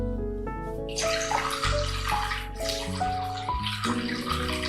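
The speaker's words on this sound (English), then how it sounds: "It's like an ASMR water pouring." Water poured steadily into a mixing bowl while making beginner sourdough bread, a continuous splashing stream with shifting pitch as the bowl fills over a few seconds.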